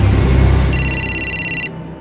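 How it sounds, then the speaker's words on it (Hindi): An electronic telephone ring trills steadily for about a second over low background rumble, then cuts off abruptly. "घंटी बजी।"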